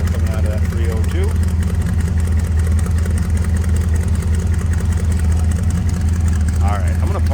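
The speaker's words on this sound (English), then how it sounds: "Take a listen, a little rumble coming out of that 302." A 302 V8 in a 1951 Ford F1 pickup idles with a steady, deep low rumble, close and fairly loud, while someone talks briefly over it.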